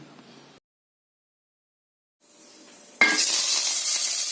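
Onions frying in a pan for a Kerala-style thoran, a steady loud sizzle bursting in after a short pause with faint kitchen noise, continuing without let-up to the end.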